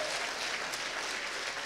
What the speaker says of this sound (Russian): Давайте аплодисменты.